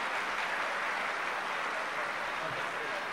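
An audience applauds to welcome musicians at a classical music festival, a dense, steady wash of clapping that holds evenly from start to finish.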